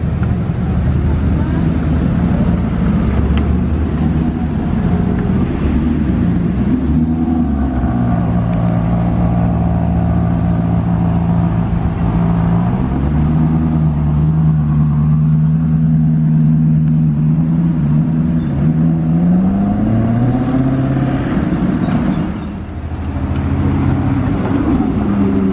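A Ferrari 488 Pista engine rumbles loudly and continuously nearby, its pitch rising and falling as it revs, with wind buffeting the microphone.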